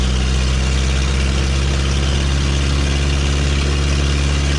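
A 1932 Ford Model B roadster, a prewar-style four-cylinder banger hot rod, drones loudly and steadily while driving, with a constant low engine rumble and no voices.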